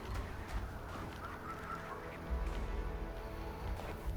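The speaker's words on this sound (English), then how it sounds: "Heard a bird." A bird honks like a goose somewhere in the game world of Wuchang: Fallen Feathers, a few faint, distant calls over quiet low ambience.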